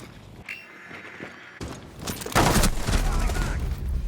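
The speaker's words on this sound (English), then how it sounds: "Nick gets a great frag grenade" A frag grenade goes off in a Rainbow Six Siege match with a loud, close blast and a sustained crackling burst, preceded by scattered mechanical clicks and shots, with a voice faintly underneath.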